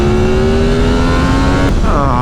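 A Yamaha MT-10 motorcycle rides along a forest road, its engine droning loud and close with a steady pitch that shifts near the end as the rider changes speed.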